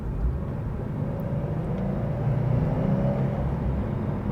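The turbocharged engine of a 2021 Subaru WRX STI drones steadily, heard from inside the car as a continuous low rumble with road noise that swells slightly midway.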